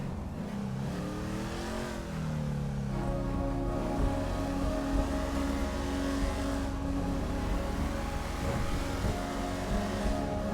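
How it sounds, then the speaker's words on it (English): A muscle car engine in Grand Theft Auto 5 revs and pulls through the gears, a loud, steady, close drone that rises and falls with acceleration, with no voices over it. "Driving a lot of muscle cars today."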